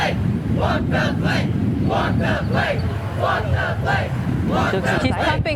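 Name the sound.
crowd cheering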